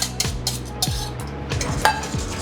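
A utensil scrapes and clinks against a bowl while scrambled eggs are stirred over a bain-marie, repeated close stirring strokes with light metallic taps.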